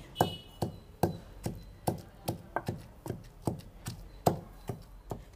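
Green chillies pounded in a stone mortar, a steady run of about a dozen solid, close thuds at a regular beat with no talk.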